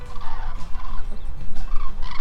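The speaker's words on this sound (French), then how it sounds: "il y a un super banc d'oiseaux là." A flock of water birds, ducks or cormorants, calls together in a busy, throaty chorus. The overlapping squawks and gabbling come loud and close, with no talking.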